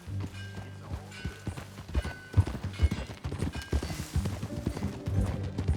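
Horse hooves clip-clop at a walking pace in the Red Dead Redemption 2 video game, an irregular series of close, moderate thuds over quiet ambient music and a brief snort.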